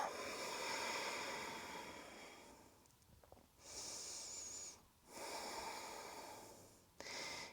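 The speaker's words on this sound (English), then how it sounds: "Breathing deep." During a yoga flow, someone takes slow, deep breaths, long audible inhales and exhales close by in a quiet room, several cycles with pauses between.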